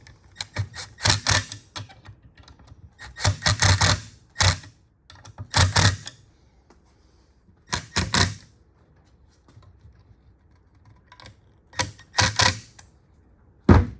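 Screws being driven tight into a cabinet face frame with a power driver, several separate whirring bursts with pauses between them, loud and close.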